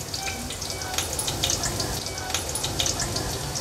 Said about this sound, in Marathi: आलं लसूण क्रश थोडंसं तेलावर परतून घ्यायचं आहे।